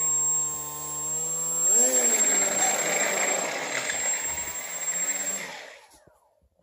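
Small electric motor on a foamboard Fokker triplane RC model plane, whining up as throttle is applied, a steady buzzing drone with a rising pitch that holds loud and close, then cuts off near the end.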